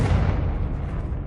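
A Confringo blasting spell explodes in Hogwarts Legacy, one loud, close boom that rumbles deep and fades over about a second, with no talk over it.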